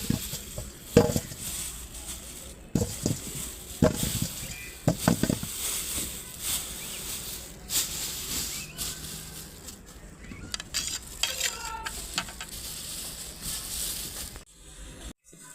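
Potatoes cooking and being stirred in a pan in a rural village kitchen, with soft sizzling under a series of sharper scraping and stirring knocks, some louder bursts near the start and quieter rustles later, close by with little talk.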